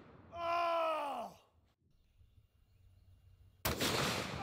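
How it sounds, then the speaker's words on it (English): A single loud, sharp blast from a large-caliber rifle with heavy recoil cracks out close by near the end, after a long drawn-out vocal groan and a quiet pause. "I'm so excited to shoot this right now."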